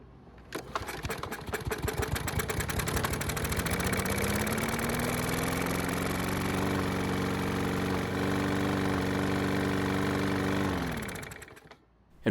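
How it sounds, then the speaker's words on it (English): A lawn mower engine, primed with fresh gasoline after winter storage, starts with a sputter, then revs up and runs steadily at close range for several seconds before cutting off abruptly. "with that bit of fresh gasoline, we were able to get it to start and it kept running"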